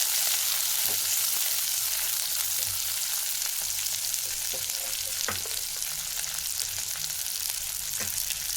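Two medium red onions sizzle steadily in hot oil for mutton sambar, a constant close frying hiss with occasional faint stirring clicks and no speech.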